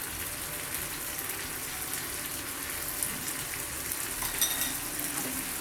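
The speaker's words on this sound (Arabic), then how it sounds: "كنحركو مزيان حتى كيتشحر لينا الدجاج ديالنا مع البصله" Chicken and onion frying in a pan, giving a steady, even sizzle with faint crackles and a few scraping stirs, close and constant throughout.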